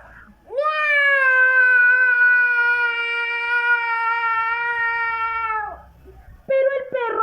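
A voice loudly imitates a cat's meow in a children's story with sound effects, one long sustained wail held for about five seconds, then a shorter cry at the end, close and alone without other talk.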